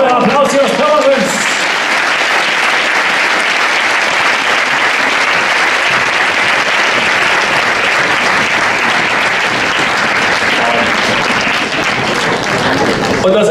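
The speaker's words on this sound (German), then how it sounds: "Das ist euer Applaus hier aus Pirmasens" Sustained, loud audience applause at a fashion show in the former main post office in Pirmasens, steady dense clapping throughout with a brief murmur at the start.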